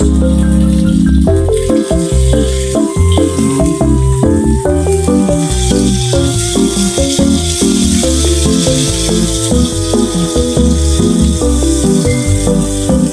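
Onions frying in a pan, cooked for kinunot na pagi, give a loud steady sizzle with rattling and stirring noises running throughout, close up with no talking.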